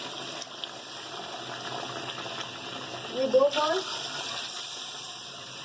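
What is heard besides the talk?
pouring water into haleem meat pot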